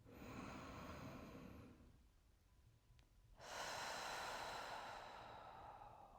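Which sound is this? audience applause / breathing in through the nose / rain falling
breathing in through the nose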